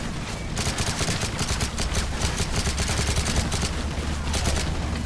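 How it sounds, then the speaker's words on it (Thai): Rapid, sustained gunfire in the video game Call of Duty: Modern Warfare 3, with dense repeated shots firing nonstop over several seconds, loud and close, with no talking. "อ้โหมันยิงไม่หยุดจริงๆอะครับ"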